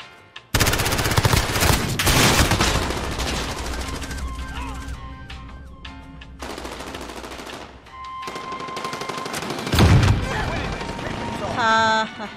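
Rapid automatic gunfire from a Modern Warfare match rattles in dense, loud bursts through most of the stretch, with a short lull near the middle and another heavy burst toward the end, and game voices underneath.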